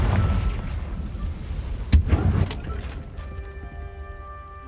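A Confringo spell blast from Hogwarts Legacy bursts out loud and close near the middle, a sharp boom over rumbling game ambience, followed by a fading tail and a sustained magical tone.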